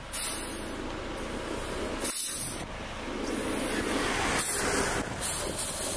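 Air hisses out of a vehicle tyre valve while the tyre is deflated for overlanding in Botswana, coming in several sharp bursts of spray-like hiss between quieter moments.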